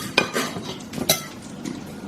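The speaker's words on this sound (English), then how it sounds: "Let me just cut into the steak and see." Knife and fork working through a cooked steak on a plate, a few close, soft scraping strokes and light clinks spaced over two seconds, no talking.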